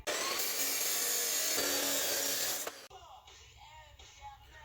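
Angle iron being cut off at about one inch wide with a power tool, giving a loud, continuous grinding whine for nearly three seconds before it stops abruptly, leaving a quieter workshop background.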